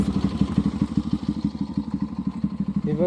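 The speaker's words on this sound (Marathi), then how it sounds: "हे बघा बाईक, आणि बाईकचा एक मिनिट आवाज दाखवतो तुमचा" A motorbike engine thumps loud and close in a fast, even idle-like pulse, its repeating firing beats filling the clip with no talk.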